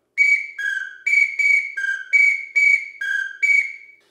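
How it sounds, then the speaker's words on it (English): A 5-in-1 duck whistle plays a pintail call, a run of nine crisp, bright whistled notes alternating high and slightly lower pitch in a steady rhythm, loud and close with no voices. "Next on the list would be pintail"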